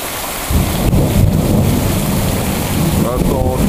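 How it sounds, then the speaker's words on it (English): A North Idaho thunderstorm pours heavy rain in a loud, steady hiss that surges in after half a second, with deep thunder rumbling underneath and a few faint voice-like sounds near the end. "wicked North Idaho thunderstorm."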